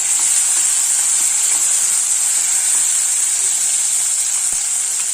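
Tomatoes sauté in oil in a pan for coconut milk rice, giving a steady, even sizzling hiss that runs unbroken throughout with no voices.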